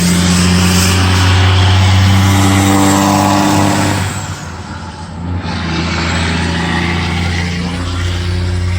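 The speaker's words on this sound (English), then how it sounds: "Guys here run with no mufflers," Heavy trucks running with no mufflers at a Port Huron, Michigan crane load site: a loud, raw, continuous engine roar with a steady low drone, dipping briefly midway as revs change, heard close with no talk.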